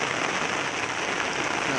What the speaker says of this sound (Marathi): लय पाऊस हल्लोय